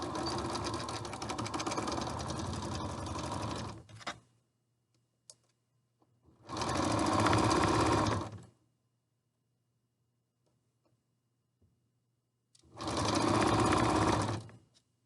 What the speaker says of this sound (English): you're going to sew this seam 1/4 inch.